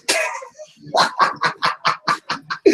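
A dog barks in a quick, steady series of about ten sharp, close barks, with a brief pause after the first.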